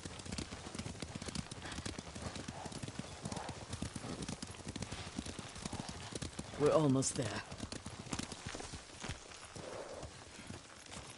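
Steady clip-clop of horse hooves walking at an even pace in the video game Ghost of Tsushima, with a horse whinnying partway through and a person speaking briefly over it.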